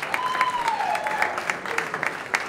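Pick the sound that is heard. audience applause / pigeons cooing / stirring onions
audience applause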